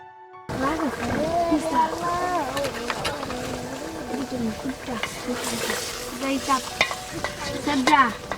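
Deshi chicken pieces are stirred into fried-down masala in a pan, giving a steady scraping and sizzling that runs throughout, close and moderately loud, with tonal background sounds layered over the cooking.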